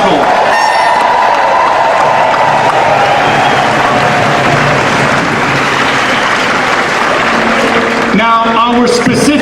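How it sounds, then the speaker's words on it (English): Crowd applause at a Tax March rally in Chicago, a loud dense wash of clapping and cheering that holds steady throughout, with music starting at the end. "A big round of applause for everyone who made this possible."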